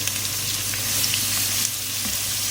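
Sliced onions frying in hot oil for a chicken khara masala, a steady close sizzle with a soft, dense crackle that holds evenly throughout.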